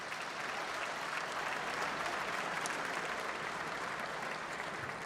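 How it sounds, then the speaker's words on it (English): Sustained applause from an awards-night audience honoring finalists and winners at a business excellence awards ceremony, steady dense clapping filling the room from start to finish without a break. "Can we get another round of applause for tonight's finalists and winners"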